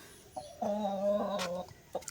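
A hen that has just laid an egg gives a drawn-out clucking call, fairly close, with a few short softer clucks before and after.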